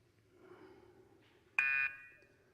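A game show buzzer marks the end of a trivia round with one sharp, loud electronic buzz lasting about a third of a second, abruptly cutting through quiet room tone.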